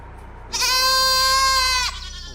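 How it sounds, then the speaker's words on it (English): A mountain goat gives a single loud, drawn-out bleat lasting over a second, close and clear above a low steady background hum. "Ready to dive into the fascinating world of mountain goats in the United States."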